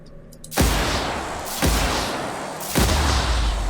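Three loud bursts of heavy gunfire in The Outer Worlds video game, each a sharp blast that rolls into a long rumbling tail, spaced about a second apart.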